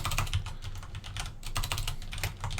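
Fast, irregular clicking of keys on a computer keyboard, close and fairly quiet, with short pauses between bursts.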